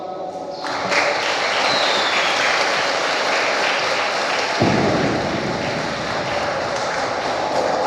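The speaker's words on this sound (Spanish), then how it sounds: "Y lo que acaba de unir Dios, que nunca lo separe el hombre. Un aplauso." Wedding guests in San Agustín Oapan, Guerrero applaud after the vows, a loud continuous wash of clapping that swells and holds for several seconds with a broad, rushing texture.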